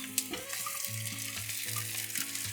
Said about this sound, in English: We'll throw in our fried potatoes. Give it all a good mix.